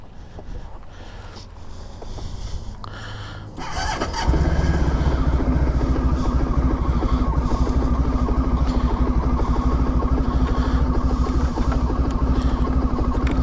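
A 1994 Honda ST1100 motorcycle engine cranks briefly, catches without choke and settles into a steady, loud, close idle with an even low rumble.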